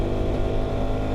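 A KTM 390 Adventure R single-cylinder motorcycle engine revs hard and steadily, filling the whole moment with a loud, close, continuous drone.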